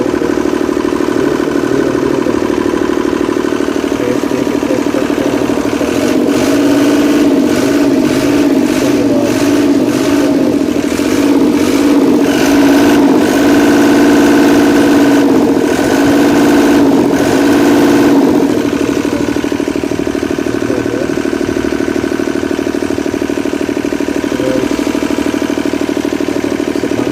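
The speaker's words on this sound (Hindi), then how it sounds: "बिल्कुल धीरे धीरे रेस दे के चेक करते हैं।" A 2011 Caesar lift engine runs loudly and steadily after its diesel plunger was opened and cleaned, holding a constant idle drone with a stretch of slow, wavering revs in the middle before settling back to idle.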